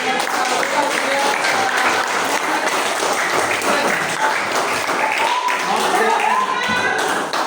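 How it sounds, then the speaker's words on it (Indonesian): Classroom applause for a student group: dense, steady clapping from many hands filling the whole stretch, with voices mixed in underneath. "Kasih aplaus buat"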